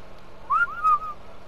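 Two short whistle tones, rising and then holding steady, from the whistle command in the video game ARK: Survival Evolved. They sound clear and close, with nothing else over them.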